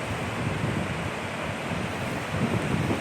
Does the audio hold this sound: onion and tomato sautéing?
no